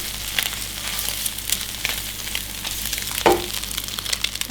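Fried spices stirred in a hot pan while cooking filling for stuffed tofu, a steady close sizzle with scraping stir strokes and one sharper clatter near the end.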